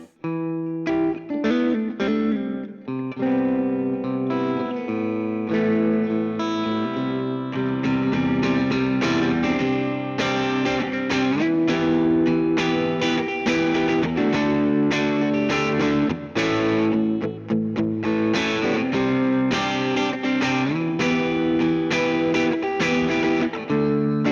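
Clean-ish Fender Player Telecaster on its middle pickup position, strummed and picked in a flowing chord progression, bright and steady, played alone without any voice.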